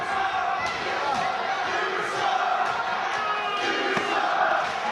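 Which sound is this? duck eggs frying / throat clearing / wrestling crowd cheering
wrestling crowd cheering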